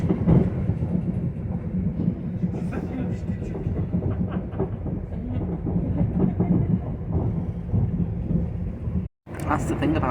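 A train rolling along with a constant loud rumble and faint rhythmic clatter, briefly cutting out near the end; no speech.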